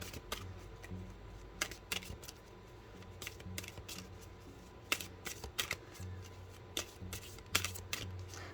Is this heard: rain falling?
no